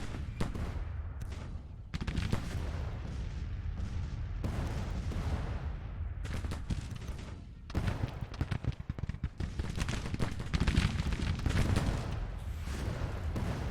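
Cannon fire and musketry thunder across a Civil War battlefield in the strategy game Grand Tactician: The Civil War, with dense overlapping volleys and booms rolling on without pause.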